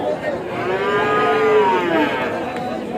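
Cattle moo at a busy cattle market, one long, loud, close low moo that swells and fades over a murmur of crowd chatter.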